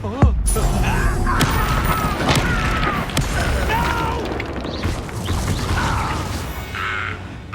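A Confringo explosion spell goes off in the video game Hogwarts Legacy with a sharp burst, followed by crashing, popping and crackling debris amid dense combat noise and a voice speaking.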